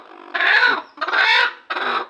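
Three loud, raspy bursts from a broody country hen, harsh and close, each lasting about half a second with short gaps between.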